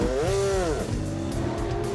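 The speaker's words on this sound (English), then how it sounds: "Finally, the Indy cars get to test the new track in race conditions" IndyCar race cars screaming past on a track under race conditions at a rain-soaked winter speedway, loud high-revving engines with a rising-then-falling pitch sweep as a car passes close, followed by more engine roar.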